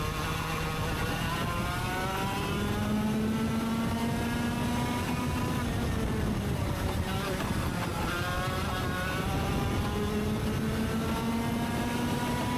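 Racing car engines droning through a race, several rising and falling harmonic whines as cars pass and shift, layered over a constant roar, with a voice talking over the top.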